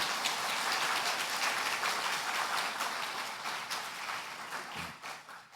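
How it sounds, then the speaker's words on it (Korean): A church congregation at a Sunday worship service claps steadily for visiting guests, a dense, even patter of many hands that slowly fades, heard from some distance. "자리에서 일어나 주시면 함께 크게 박수로 축복하겠습니다."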